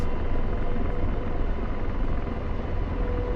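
Helicopter rotor in the DCS combat flight simulator, a loud, steady, dense whirring drone with low rumble that holds unbroken throughout, with no speech over it.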